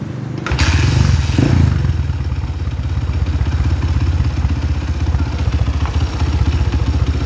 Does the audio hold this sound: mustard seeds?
no